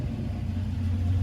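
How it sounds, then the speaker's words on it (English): A 1987 Ford Mustang Foxbody notchback with a turbo idles after a cold start, a loud, close, steady low rumble with a deep droning engine note and no voices. "Notchback Mustang, 1987."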